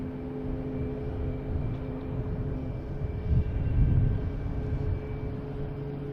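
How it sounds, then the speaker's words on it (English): A JetBlue jet takes off at Boston Logan Airport at night, heard as a distant, steady low rumble that swells briefly midway and then settles back. "JetBlue taking off here."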